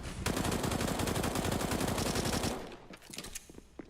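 Rapid submachine-gun fire from a CS:GO pro match in a bomb site, a dense, loud continuous burst of rattling shots lasting over two seconds before cutting off into scattered fainter shots and game noise.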